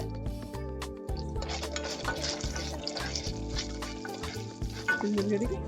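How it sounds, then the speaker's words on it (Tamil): Urad dal and garlic cloves frying in hot oil in a pan for mint rice, a steady close sizzle with clinks of a stirring spoon against the pot throughout. "உளுந்து கொஞ்சம் பொரிஞ்ச அப்புறம் 5 பல் பூண்டு போடுங்க"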